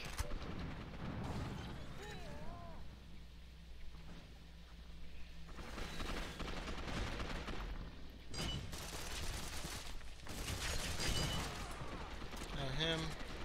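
Dense bursts of gunfire and explosions from the video game Gotham City Impostors in a team deathmatch with sniper rifles, booming shots in clusters throughout, loud and continuous.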